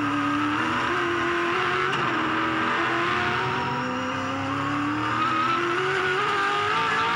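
V8 Supercars race car at Oran Park in 2007 spinning its wheels, a loud continuous engine roar with rising and falling pitch and tire noise, steady throughout with no talk.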